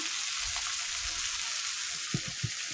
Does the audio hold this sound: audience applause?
no